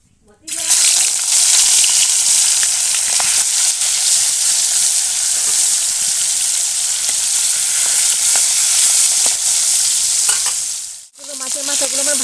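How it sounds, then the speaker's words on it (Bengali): Fish heads rubbed with salt and turmeric fry in hot oil in a wok, giving a loud, continuous crackling sizzle. The sizzle cuts out briefly near the end, then returns more faintly. "এখন মাছের মাথাগুলো ভেজে নেব।"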